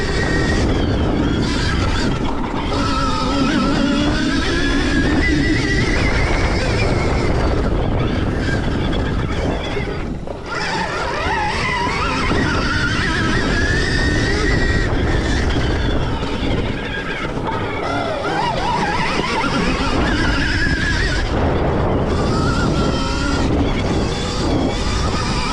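A 2026 Stark Varg electric motorcycle flat tracking, its whining electric motor rising and falling in pitch as it accelerates and slows, loud and continuous under strong wind noise for the whole stretch.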